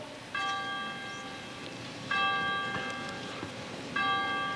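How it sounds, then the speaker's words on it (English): Church bells ring three times at even intervals, each a bright metallic clang that hangs and decays over a faint background hum. "Do you hear those bells?"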